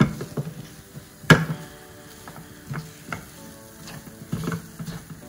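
Rajgira and singhara flour roasts in a pan for Navratri barfi, a soft crackling sizzle broken by a spatula scraping and one sharp knock against the pan, close and fairly loud.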